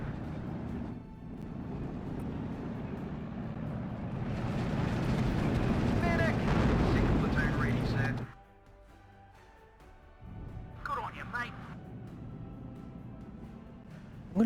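Tank guns and battle noise roar loudly and continuously in a WWII strategy game with Sherman tanks and Staghound armoured cars, dropping to a quieter lull before rumbling again, with someone talking over it.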